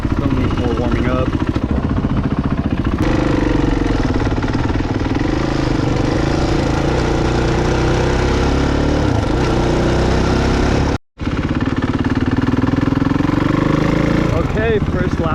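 A Kawasaki KX450F dirt bike engine idles and warms up at a practice track, a loud, steady close-up putter with slight revving swells and one brief cutout; a voice speaks over it.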